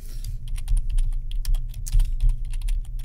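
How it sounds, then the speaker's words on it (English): Rapid, uneven clatter of keys on a computer keyboard, close and steady throughout, with a low hum underneath and no talking. "I'm typing and talking at the same time"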